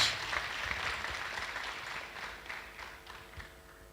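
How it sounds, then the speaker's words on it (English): Audience clapping at a university technology week event, a moderate burst of applause from a crowd that gradually thins and fades over a few seconds. "So I thought you would clap for that."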